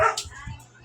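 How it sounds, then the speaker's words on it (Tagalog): A neighbor's dogs bark in a quick burst of short, sharp barks and yips, moderately loud and over in under a second. "Napakaingay ng mga aso ng aming kapitbahay"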